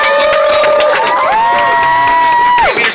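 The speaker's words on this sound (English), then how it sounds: "Give a round of applause." A crowd at a Vemma Super Saturday training session applauds and cheers loudly, with sustained whoops and shouts riding above continuous clapping for the whole stretch.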